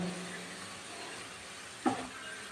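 Spinach fries in a pan as a steady, faint hiss of sizzling, with one brief clatter partway through and no voices.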